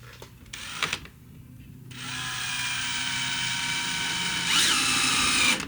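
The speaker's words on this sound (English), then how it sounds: "Countersunk heads in to hide the screw heads," A power drill drives countersunk screws into van wall cladding: a short burst, then a long steady whine that rises in pitch near the end.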